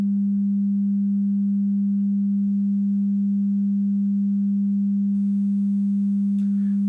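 A steady low sine tone hums unchanged throughout, with faint gritty bit-reduction distortion creeping in above it from the midpoint onward, down to 7 bits.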